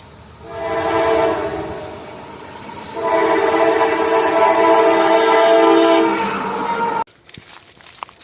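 A CSX freight train loaded with coal passes on the old main line, sounding a K5LA horn in two loud sustained blasts over rumbling wheels, then cuts off abruptly, leaving faint background noise.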